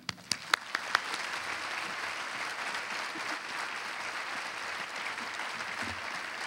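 A conference audience at an opening plenary session in Atlanta breaks into sustained applause for a speaker, beginning with a few sharp individual claps before swelling into a steady, dense ovation that holds throughout.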